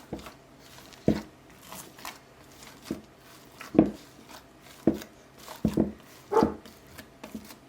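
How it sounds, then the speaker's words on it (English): Risen homemade sandwich bread dough is punched down in a bowl, giving a series of dull, soft thumps and squishes at irregular intervals, close and moderately loud. "Just punch it down like that."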